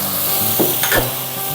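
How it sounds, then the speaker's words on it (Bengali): A spice masala of cumin, green chili and turmeric sizzles in a pan for a thin rui fish curry with taro, a steady close frying hiss with a couple of brief stir clicks. "মশলাটা কষানোর জন্য আমি এখন একটু জল দিয়ে দিব"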